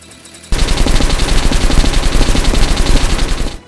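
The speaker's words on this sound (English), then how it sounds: "some of the guns don't necessarily sound bad, they just seriously lack that satisfying punch" Rapid automatic gunfire from Metro: Last Light, a dense, loud burst of shots in an even rhythm lasting about three seconds, starting abruptly and ending sharply, with no talk.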